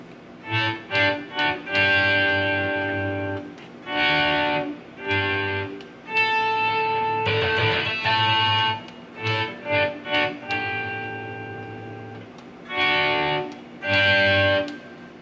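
Electric guitar plays a solo, with bursts of sustained, ringing lead notes and quick runs separated by short pauses over about fifteen seconds, heard alone.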